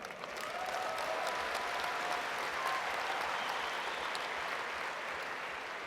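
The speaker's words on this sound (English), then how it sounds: "I think you should give yourself a huge round of applause" Trainees at a training session applaud themselves in a steady, sustained round of clapping that fills the room for several seconds at moderate level, with no talking over it.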